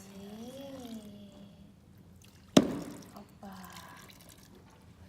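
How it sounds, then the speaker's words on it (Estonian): Water poured onto homemade modeling dough made from kitchen ingredients, one sudden splash midway then a fading trickle, close, with a voice speaking before and after. "Siis saab vaadata, kuidas vett peale valada."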